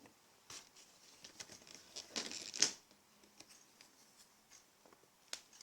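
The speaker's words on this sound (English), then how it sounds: "I'm just going to write an alif with that number 1." A homemade ice cream stick qalam scratches across paper while writing an Arabic alif, faint soft scraping strokes close up with a brief louder scratch mid-stroke, in quiet surroundings.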